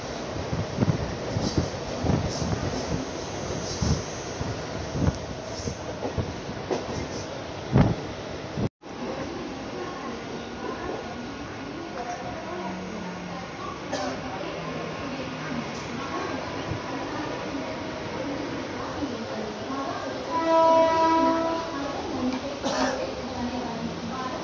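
Mumbai fast local train pulling out of Kurla station and picking up speed, with rumbling wheels, clanks and rattles rising and falling, a sharp break midway, and faint voices at times.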